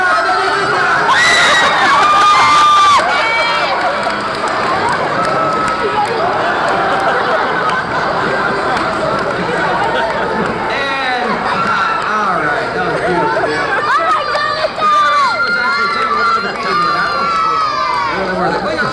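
Crowd cheering and shouting, children among them, during a live Star Trek–themed stage show on the Universal Studios Hollywood tram tour in 1993, loud and sustained throughout with whoops and yells.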